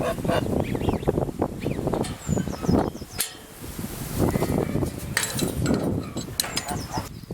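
A city goose at a field honks repeatedly in scattered bursts, mixed with steady outdoor background noise and a brief louder burst midway.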